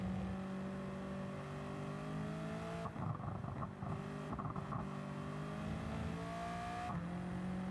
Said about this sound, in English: or at least hear the anti-lag